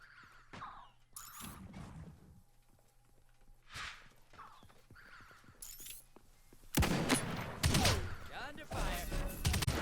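Gunfire in the video game Realm Royale: sharp bursts and clicks scattered through quiet stretches, then a loud dense volley of shots near the end, with a brief voice.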